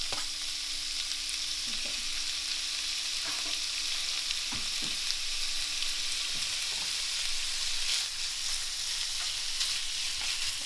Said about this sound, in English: So the pan is heated up, so now I'm gonna put the bacon in there.